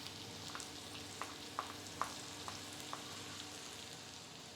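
Mutton frying in a pan on a low flame, a soft continuous sizzle with several light clicks of stirring spaced about half a second apart.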